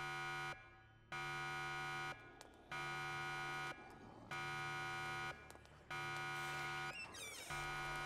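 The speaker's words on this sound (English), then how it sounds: "We just set off another alarm," Loud electronic alarm buzzer from a video game set in a research centre, blaring in long repeated blasts about a second each with short gaps, steady and close.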